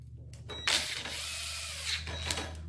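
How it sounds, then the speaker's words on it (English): A bolt is tightened into the end of a handle rod during equipment assembly, making a steady mechanical whirring and grinding for about a second and a half, close up and fairly quiet, with no talking. "Insert your H7 bolt and tighten."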